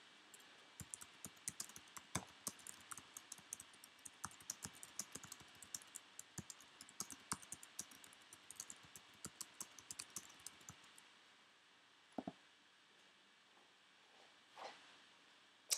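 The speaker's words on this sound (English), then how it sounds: "I'm going to type in my password here" Fingers type a password on a computer keyboard: quiet, quick clusters of key clicks for about ten seconds, then a few isolated taps after a pause.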